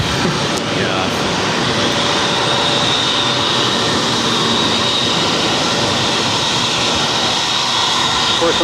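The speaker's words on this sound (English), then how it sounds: "Another Spirit A320 Neo." Spirit Airlines Airbus A320neo jet at Boston airport, a steady broad roar of engine noise with a thin high whine holding throughout, loud and continuous with no break.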